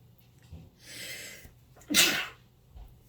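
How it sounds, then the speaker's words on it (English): A single loud, close sneeze from a woman, a brief breathy intake followed by a sharp burst, with faint rustling and quiet room tone around it. "I'm going to sneeze."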